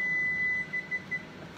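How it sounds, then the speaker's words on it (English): A kitchen timer beeps during vegan meal prep, a steady high tone that breaks into a few short evenly spaced pulses, loud and close, with no talking. "sorry, timer's going off"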